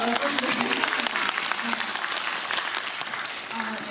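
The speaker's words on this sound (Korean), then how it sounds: "박수 한번 쳐주실까요?" Audience applause at a film screening and guest Q&A at the Busan International Film Festival, a dense, sustained clatter of many hands with faint voices underneath.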